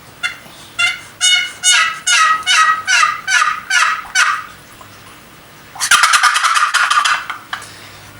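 A handmade wooden box call, crafted in 2018 for turkey hunting, scrapes out a run of sharp, rhythmic hen yelps and then a rapid, rattling gobble imitation, loud and close with no voices.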